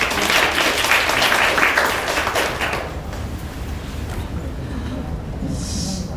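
A crowd claps for a speaker at a Korean women's policy forum, a loud dense burst that thins out and dies away after about three seconds, leaving quiet room noise and a faint voice.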